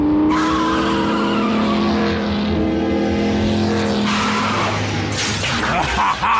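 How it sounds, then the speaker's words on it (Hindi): A car engine of a Transformer in the Transformers Prime cartoon roars steadily and revs higher, then tires screech sharply toward the end, loud and close. "मैं इस इंजन की आवाज को अच्छी तरह पहचानता हूं।"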